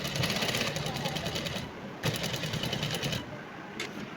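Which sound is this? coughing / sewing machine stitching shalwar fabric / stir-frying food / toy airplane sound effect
sewing machine stitching shalwar fabric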